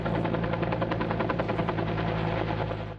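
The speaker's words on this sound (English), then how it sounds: "Helicopters have been dumping buckets of water on the flames to prevent them from spreading." A helicopter fighting a wildfire near Anmore in Metro Vancouver, dropping buckets of water on the flames. Its rotor chops steadily and loudly throughout, close and continuous, with no talking.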